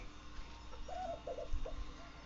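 A few short, soft calls from backyard chickens by their coop in quick succession, close by, over a low steady background hum.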